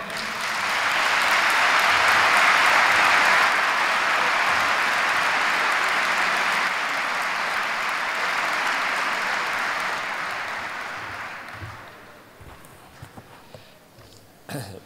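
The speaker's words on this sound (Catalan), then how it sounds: "Un aplaudiment per ell." A large crowd at a national political rally applauds a speaker being introduced, producing a dense, loud wash of clapping that holds for about ten seconds before fading to scattered claps and room noise.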